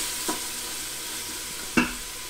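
Sofrito being stirred into an Instant Pot for arroz con gandules, a steady low sizzle with two brief scraping spoon strokes, one faint early and one louder near the end.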